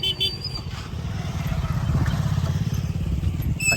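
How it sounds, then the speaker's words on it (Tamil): A motor vehicle, most likely a motorbike, passes on a road, its buzzing engine growing louder and nearer, with brief voices heard around it. "வண்டி வந்துக்கிட்டே இருக்குது ஆக்சுவலாக அந்த ரோட்டில்"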